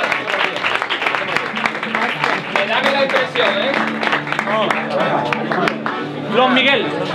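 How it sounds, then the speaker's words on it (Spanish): Street audience at the Cádiz Carnival applauding a chirigota callejera, dense steady clapping running throughout with lively voices and singing mixed in close by. "¡Fuerte aplauso!"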